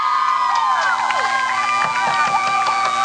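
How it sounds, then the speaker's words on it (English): A college baseball dugout cheers on its teammates during an Augustana versus Winona game, with overlapping shouts, whoops and encouraging calls rising over a steady crowd background. "The dugout's cheering loud and positive encouragements to their teammates"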